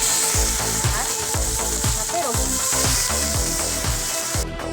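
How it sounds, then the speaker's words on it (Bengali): Garlic paste and green chilies fry in hot mustard oil, a steady loud sizzle running throughout with rhythmic stirring scrapes every second or so. "এই যে আমার রসুন পেস্ট কাঁচা লঙ্কা একটু লাল লাল ভাজা হয়েছে"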